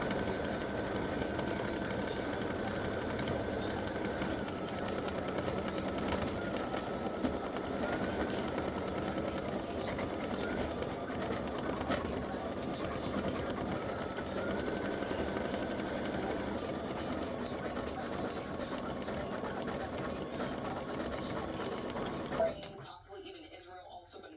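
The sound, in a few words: embroidery machine stitching an applique design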